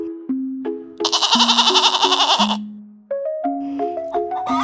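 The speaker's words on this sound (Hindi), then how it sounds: "हिंदी में मुझे बकरी कहते हैं।" A goat gives one loud, quavering bleat partway through a bright children's alphabet song, the wavering cry cutting in over simple plinking melody notes that play before and after it.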